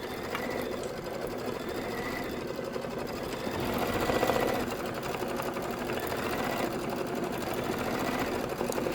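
An embroidery machine stitches applique on a pillow piece, producing a continuous rapid mechanical needle rattle and hum at moderate loudness, steady throughout with a brief swell midway.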